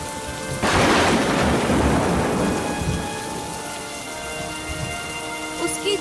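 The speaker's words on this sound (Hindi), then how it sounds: "पानी शुरू हो गया है।" Heavy rain pours down on a village hut's tin roof in a dense, steady hiss, starting suddenly and loud, with a low rumble underneath.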